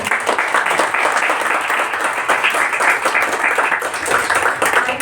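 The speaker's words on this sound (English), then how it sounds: "can we clap once again for her" A conference audience gives a speaker sustained applause, a loud, dense wash of many hands clapping steadily from start to finish with no break.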